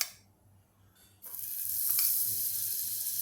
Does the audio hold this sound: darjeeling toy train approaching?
no